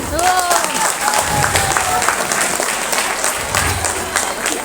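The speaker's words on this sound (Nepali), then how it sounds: "हामी तीनजना एकचोटि ताली बजाइदिनु होला" An audience at a small home magic show bursts into sustained clapping, a dense even patter of many hands with a few voices mixed in over it.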